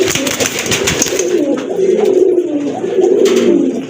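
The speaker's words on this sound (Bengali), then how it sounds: "এই যে দেখেন কবুতরটা কিন্তু অনেক ডাকবে" A domestic pigeon coos in low rolling, throaty phrases, close and loud, with brief chirps and background bird noise early on.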